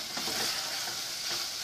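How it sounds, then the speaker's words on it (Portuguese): Okra and meat frying in a pan, a steady dense sizzle with faint stirring scrapes, close and continuous with no voices. "Então, agora eu só dou uma fritada aqui."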